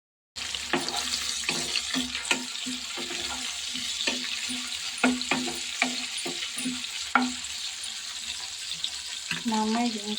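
Sliced okra (bendakaya) fries with green chillies in a pan, giving a steady sizzle broken by repeated scraping strokes of a stirring spoon. The sound is close and fairly quiet, with a voice briefly heard near the end.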